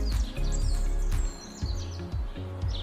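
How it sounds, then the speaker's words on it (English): Soft bird chirps and twitters rise and fall over a gentle, warm musical background, heard quietly and close in a nature setting. "Listen, do you hear that soft chirping?"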